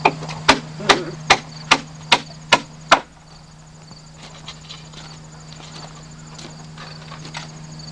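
A hammer strikes wood during observatory construction, seven sharp evenly spaced knocks in quick succession, close and loud, followed by quieter scattered tapping and background room noise.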